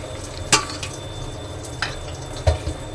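A small amount of onion frying in a pan while cooking biryani, a steady soft sizzle with three sharp clinks of a utensil against the pan.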